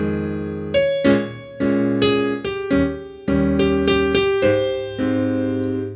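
A piano plays a swing melody with chords struck on the upbeats, giving a steady run of bright, ringing notes and accented chord stabs, close and clear with no voices.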